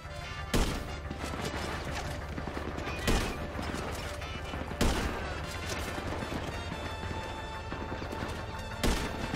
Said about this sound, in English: they're shooting me from every direction